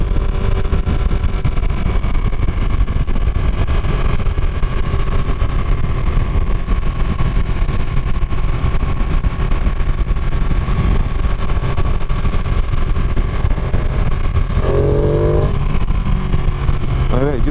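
A 2017 Ducati 959 Panigale ridden on a damp road gives a loud, continuous engine drone mixed with strong wind rush, steady throughout, while the rider talks over it.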